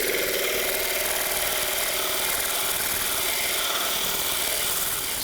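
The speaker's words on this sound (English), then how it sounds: "So I've got my big sanding disc up here. Going to turn it down a ways. And we're going to just sand this flat." Large powered sanding disc grinding the bottom of a wooden paperweight flat, a continuous loud abrasive whir with a steady motor drone and no voices.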